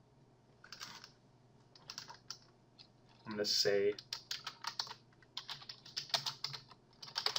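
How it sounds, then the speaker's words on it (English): Typing on a computer keyboard, rapid clusters of clicky keystrokes at close range, a burst of quiet speech in the middle, then more brisk tapping to the end. "Gotta love my typing expertise."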